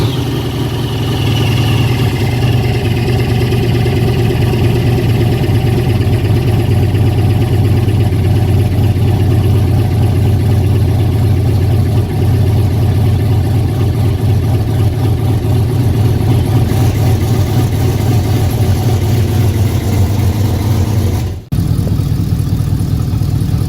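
A car engine idles loudly and steadily right after start-up, holding a constant low drone for the whole stretch with only a brief dip near the end.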